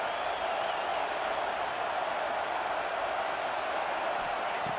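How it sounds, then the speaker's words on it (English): A stadium crowd in a college football video game gives off a steady, dense roar of cheering and noise that holds at an even level throughout. "It's early, but this crowd is fired up. Listen to this noise here."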